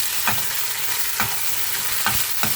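Garlic and tomato paste frying in butter in a pan, a constant soft sizzle broken by a few sharp scraping stirs, with no voices.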